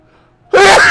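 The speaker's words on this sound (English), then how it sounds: "excuse me, I'm about to sneeze." A single loud, close sneeze bursts out suddenly after a quiet moment, sharp at the onset and trailing off briefly.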